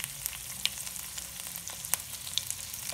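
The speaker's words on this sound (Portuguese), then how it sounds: "a primeira coisa agora é fritar a pimenta." Pepper frying in a spoonful of hot ghee, a steady close sizzle and crackle with small pops scattered throughout, no voices.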